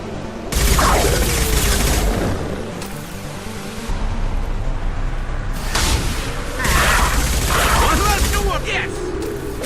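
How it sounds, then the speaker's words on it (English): Loud booming high-impact gunshots from Mass Effect 2 combat, several heavy blasts with rumbling tails spaced a few seconds apart, alongside a game character's voice lines. "Firing a high-impact shot!"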